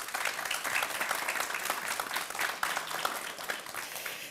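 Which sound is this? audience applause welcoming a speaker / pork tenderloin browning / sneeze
audience applause welcoming a speaker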